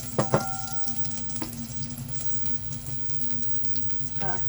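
Fish browns in hot oil in a pan for paksiw, a steady close sizzle and crackle running throughout, with a couple of sharp clinks and a short tonal ring near the start.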